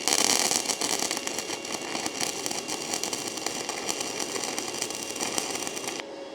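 Arc welding with a 6011 rod on a SEFASPE 160A welder cranked to about 120 amps outdoors in Texas heat: a steady, dense crackling hiss with sputtering pops, continuous and close, ending abruptly near the end.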